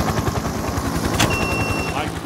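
Rapid rhythmic thumping of helicopter rotors in the VR game Terje Haakonsen's Powder VR, steady and close, with a brief sharp burst midway and a thin high whine after it.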